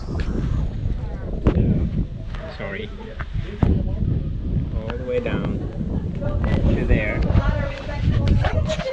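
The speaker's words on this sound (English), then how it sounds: "The wind is kind of getting a bit strong here." Strong outdoor wind buffets the microphone in a steady, close roar with gusts, while voices talk underneath.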